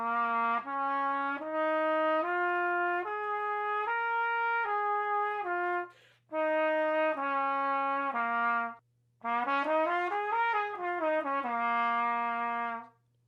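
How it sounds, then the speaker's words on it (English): A single melodic instrument plays a minor pentatonic scale in clear sustained notes, running up and back down in three phrases separated by short pauses. "there's a minor pentatonic scale"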